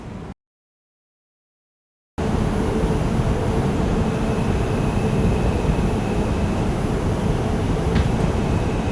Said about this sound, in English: This is a Brooklyn-bound 2 train.